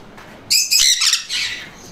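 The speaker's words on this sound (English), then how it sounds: "He's a full sun conure." A full sun conure parrot lets out a run of loud, shrill, high-pitched calls, several harsh screeches in quick succession, close to the listener with no talking.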